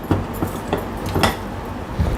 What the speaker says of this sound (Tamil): சும்மா 1 நிமிஷம் போல் கிளறி அடுப்பை விட்டு நம்ம இறக்கிடலாம்